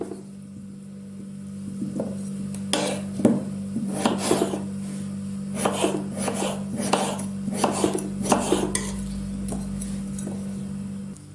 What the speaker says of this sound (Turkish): Onları da şöyle ortadan ikiye kesip dörde bölüp iri iri olacak şekilde doğruyorum.